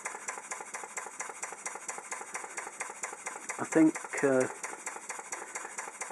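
A vertical steam engine runs steadily at about 10 psi, ticking over with an even, repetitive mechanical rhythm that continues throughout, while someone briefly speaks over it.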